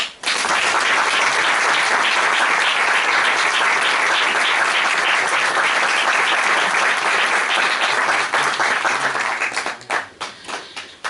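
Strong applause from an audience welcoming two musicians at a Valencian poetry and music event; dense, loud clapping sustained for about nine seconds before thinning into a few scattered claps.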